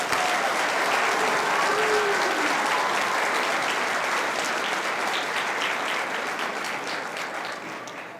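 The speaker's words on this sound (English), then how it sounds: "can you just start off by giving them a round of applause for me?" Audience applause at a middle school honors music festival, dense sustained clapping from a large crowd that holds strong and then slowly fades toward the end.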